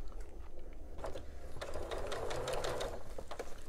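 Sewing machine stitching around a fabric microwave bowl cozy at a half-inch seam, a fast rattling whir that starts, briefly pauses, then runs in quick mechanical bursts close up, with no voices.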